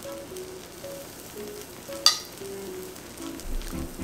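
Vegan French toast sizzling in a frying pan over medium-high heat: a faint, steady hiss of frying that runs throughout, with one brief sharp click partway through.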